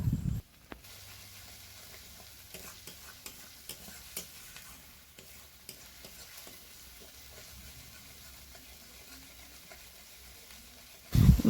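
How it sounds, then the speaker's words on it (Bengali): Chilli powder, coriander powder and salt sautéing together in a pan give off a steady, faint sizzle and hiss with intermittent stirring scrapes, close-up and continuous, then a louder clatter right at the end. "সব কিছু মশলা একসাথে ভালো করে কষে নেব।"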